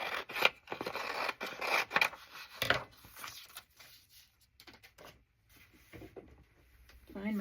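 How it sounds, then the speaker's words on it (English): Scissors trim the bottom edge off a paper school workbook page in several short crisp snipping cuts, followed by quieter paper rustling and handling nearby. "I'm going to trim off the bottom so I know that that's where the margin is"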